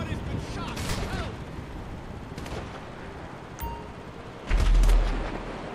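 Gunfire crackles through a GTA V shootout at a construction site, rapid bursts and scattered shots at mid distance with a heavier blast near the end, while voices talk over it.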